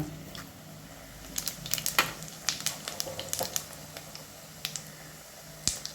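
Chana dal, dried red chilies, cumin and garlic roast in a dry pan and give a steady, soft sizzle. Irregular scraping and clicking stir strokes sound near and fairly loud over it, with no talking.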